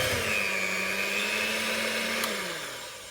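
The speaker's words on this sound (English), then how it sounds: "we're just going to whisk this up to a nice frosting" An electric whisk whips double cream and icing sugar into frosting for carrot cupcakes, giving a steady, close motor whine with a whirring tone that holds for about three seconds before easing off at the end.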